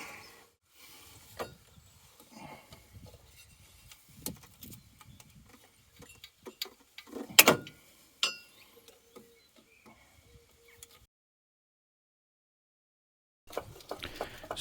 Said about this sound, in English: Let's get those hose clamps off.